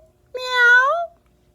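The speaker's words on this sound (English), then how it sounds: "That cloud just meowed at me." A single domestic cat gives one clear, rising-then-falling meow lasting under a second, close and distinct against near silence.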